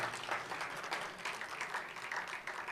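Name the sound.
audience applause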